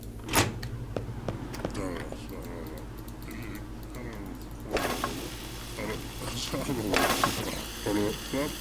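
Kitchen appliances switching on in the video game Happy's Humble Burger Farm, a run of mechanical clicks and whirring hums, then a denser electric drone, under a speaking voice.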